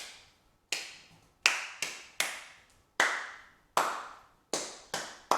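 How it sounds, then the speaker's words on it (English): One person claps a rhythm back by hand, about a dozen sharp, close claps in an uneven pattern, each ringing briefly in a reverberant room, with no talking. "First of all, Golda's going to clap the same back to me."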